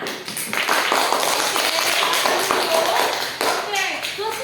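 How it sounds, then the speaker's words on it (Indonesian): Classroom pupils clap in a busy, slightly uneven patter that runs for a few seconds, with children's voices mixed in and briefly breaking through near the end. "Ya, tepuk tangan."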